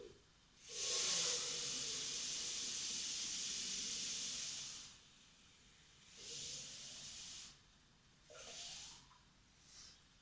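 Water pours into a plastic sensory bottle in a steady hissing rush lasting several seconds, followed by a few shorter, quieter bursts of filling; no one talks.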